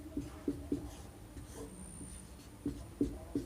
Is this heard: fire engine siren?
no